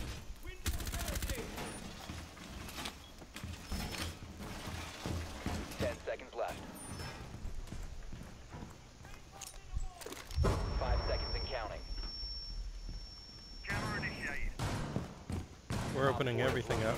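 Rapid bursts of gunfire tear holes through walls during a Rainbow Six Siege team deathmatch bomb round on the Chalet map, with sharp repeated shots, rattling debris and mechanical clicks, while voices talk over the action.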